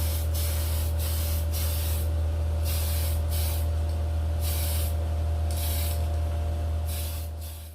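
Aerosol spray can laying light coats of TS15 blue paint on a 1977 Dodge van, a steady close hiss in repeated short bursts over a constant low hum.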